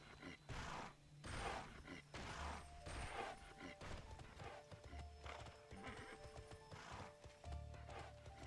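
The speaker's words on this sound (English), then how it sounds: "No, horses don't do that sound while they run." A horse gallops with steady clip-clop hooves and whinnies loudly in a video game, the neighs repeating over the running rhythm.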